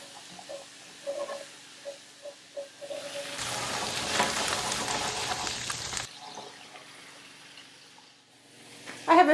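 Onion, garlic and miso paste with pats of butter, stirred in a pan: a loud hissing sizzle bursts up for a few seconds, then settles back to quiet clinks and faint bubbling.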